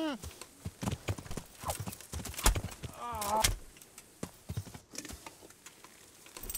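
Rhythmic clip-clop of horse hooves with a horse snorting and whinnying in the video game Kingdom Come: Deliverance, mixed with someone talking over it.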